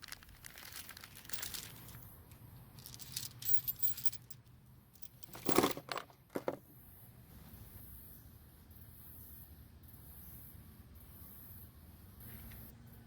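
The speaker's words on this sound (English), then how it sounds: "first thing we have to do is open the bag up and find the correct one that looks like the old one" A plastic bag of trimmer head adapters is opened and rummaged through, producing crinkling rustles and small clinking parts in bursts, loudest midway, then fading to quiet handling.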